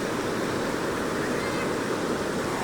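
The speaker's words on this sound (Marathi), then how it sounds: "पाऊस पडतो कॅमेराचं पाणी पडतंय" Rain falling outdoors in a village, dripping onto a camera, a dense steady wash of noise with no breaks, loud and close.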